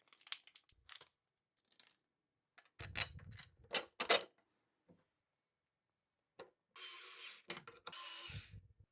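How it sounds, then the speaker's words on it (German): Two long screws are driven into the mounting plate of an Elegoo Centauri Carbon 2 3D printer, giving intermittent ratcheting clicks and mechanical turning bursts separated by quiet pauses. "Da kommen diese 2 langen Schrauben hinein."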